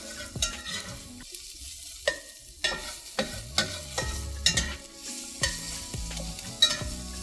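Cheese and a patty frying in a pan for a breakfast sandwich, a low sizzle broken by repeated sharp spatula taps and scrapes at a steady rhythm.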